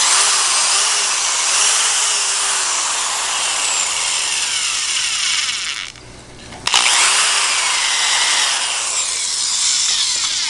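A cordless power drill drives screws into wooden loop benchwork for N scale model railroad layout, running loud and close in long sustained bursts with a short pause midway before revving again.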